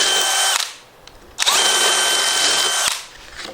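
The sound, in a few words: power drill drilling timber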